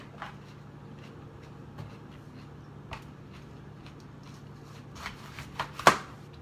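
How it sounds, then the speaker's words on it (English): A knife cuts a red pepper on a board in sparse, faint slicing sounds, giving way to a cluster of louder crisp cuts and taps near the end, heard close with a low background hum. "So I'm cutting out the pepper a little bit more."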